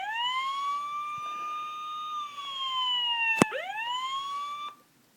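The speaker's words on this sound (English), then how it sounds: "And that's siren 1." A 2005 Hess toy truck sounds its first siren setting, an electronic wailing tone that rises and falls in long sweeps, with a sharp click partway through, before cutting off abruptly at the end.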